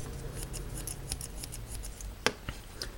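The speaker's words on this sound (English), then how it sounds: "there is a nice set of Fiskars scissors" Small Fiskars scissors on a Gerber Diesel multitool snip repeatedly, a quick series of light metallic clicks followed by a couple of sharper, louder cuts, close up with no talk.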